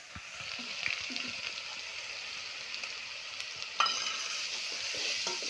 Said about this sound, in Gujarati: હવે આ ડુંગળીનો વઘાર થાય છે